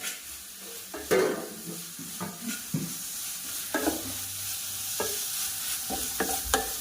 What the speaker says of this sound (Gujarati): હવે આપણે જે છીણ નાખ્યું હતું અને એમાં નાખીને હલાવી નાખીએ મસ્ત